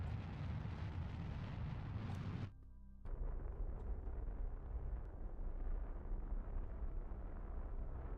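A rocket takes off in the Kerbal Space Program video game with a deep, roaring engine rumble that cuts out briefly, then resumes as a steady thunder. The sound is fairly quiet overall.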